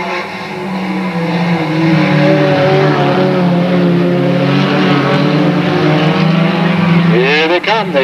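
Race cars roaring around the oval at Delta Speedway in 1996, a loud, sustained engine drone with rising and falling pitch as cars pass close by, a burst of other engines near the end.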